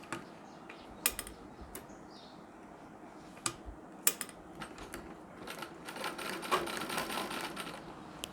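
A sewing machine stitches a folded-back fabric strip while fitting a chain (zipper) into a nauvari saree, its faint mechanical whir running in short bursts with light clicks, growing steadier and busier toward the end.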